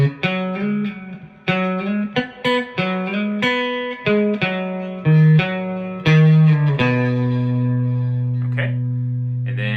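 An electric guitar with a slightly overdriven tone plays a country-style solo phrase, picked notes moving through quick runs before settling onto a long sustained note that rings out to the end.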